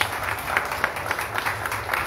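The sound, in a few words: applause for Jesus in church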